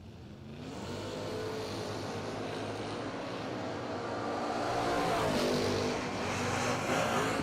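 Drag race cars, among them Matt Cook's Vega wagon, run at the BTE Labor Day $250K meet with a continuous loud engine roar that swells and builds toward the end, close and dense.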